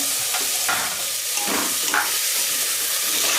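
Peas, potato and cauliflower hit hot cooked masala for Maharashtrian masala bhat, giving a loud, close, continuous hissing sizzle with faint stirring scrapes and no talk.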